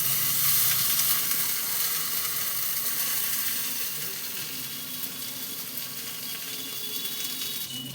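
Semolina balls frying in oil in a pan give a soft, steady sizzle and crackle that fades slightly over time, heard close and with no talking.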